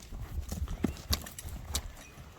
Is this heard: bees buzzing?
no